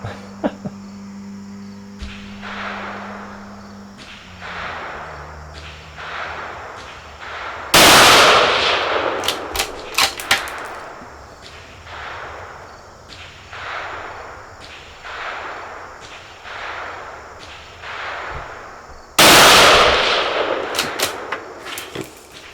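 Savage B Mag rifle in .17 WSM fired at an outdoor range, about eight sharp cracks spaced a couple of seconds apart, two much louder nearby blasts among them, over a constant insect chirp.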